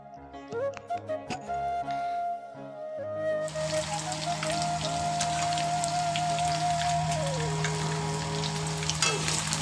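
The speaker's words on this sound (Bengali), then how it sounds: "এখন চিলি চিকেনের জন্য এই মাংসটাকে ফ্রাই করা হচ্ছে।" Chicken pieces for chilli chicken fry in a hot pan, a dense steady sizzle like rain that starts abruptly after a few seconds of kitchen clatter and a tonal hum, then continues loud and unbroken to the end.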